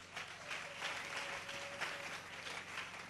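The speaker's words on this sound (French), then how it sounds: "Acclamons très fort pour lui." A church congregation applauds and cheers at a moderate distance, a dense wash of clapping that swells in waves for a few seconds, with a faint sustained tone under it.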